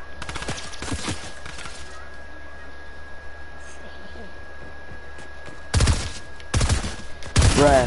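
Short bursts of rapid gunfire in Fortnite crackle at the start and again near the end, with quieter background between, and a voice speaks briefly.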